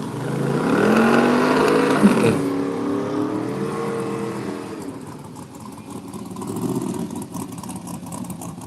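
Hemi Cuda drag car launching and accelerating hard down the left lane at a drag strip, a loud, close engine roar that rises in pitch, then fades into a further lower rumble as another Hemi runs in the near lane.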